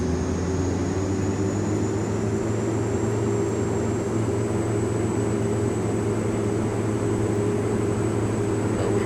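An aircraft engine roars steadily and loudly as power comes up for takeoff in X-Plane 11, a continuous drone with a thin high whine above it and no voices.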